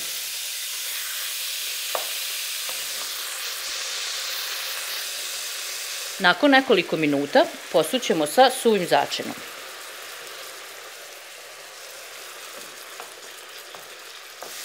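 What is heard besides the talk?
chicken breast frying in oil in a pan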